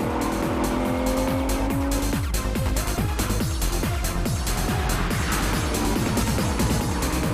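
A Lamborghini Murciélago brakes hard and corners at speed, engine roaring loud and close with rapid pitch swings as gears shift down and revs rise again, under continuous tire and road noise.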